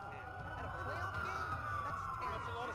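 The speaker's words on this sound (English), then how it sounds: "That's a lot of sirens for a blackout." Police sirens wail and warble in the Watch Dogs video game during a blackout, several overlapping at moderate distance beneath game ambience and a voice speaking.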